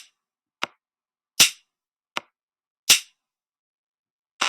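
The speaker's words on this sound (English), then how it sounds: "I'm going to keep the drum pattern going." A sparse electronic drum pattern from a browser music toy, sharp clicky hits alternating with fuller thumps in a steady, spaced rhythm over silence.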